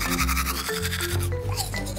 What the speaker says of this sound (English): 32 teeth need a lot of brushing.